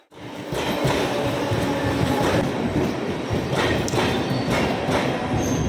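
A local commuter train pulls into Ambernath station with a loud, close rumble and steady clickety-clack of wheels over rail joints, continuing throughout with no speech.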